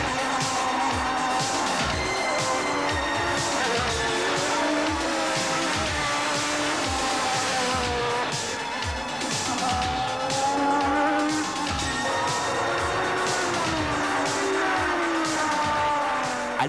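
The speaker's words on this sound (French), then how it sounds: "Au feu vert, c'est Prost qui s'élance le premier." McLaren Honda Formula 1 race cars at the start of a 1988 Grand Prix: a loud, continuous roar of high-revving engines with rising and falling pitch sweeps as the cars accelerate away, with hints of tire squeal throughout.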